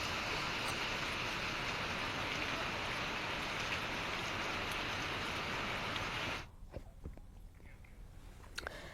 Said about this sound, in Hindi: साथ ही बारिश हो भी रही है।